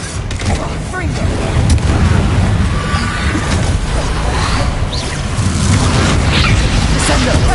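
Confringo blasting spells explode in Hogwarts Legacy amid a running magical duel, with repeated heavy booms and crackling bursts over a dense, loud rumble, while voices shout over the fight.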